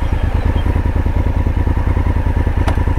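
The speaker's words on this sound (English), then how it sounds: "Let me just turn this motorcycle on." A Honda Africa Twin motorcycle engine runs with a rapid, even idle thump and clatter, close and loud and steady for the whole stretch, with a brief faint click near the end and no speech.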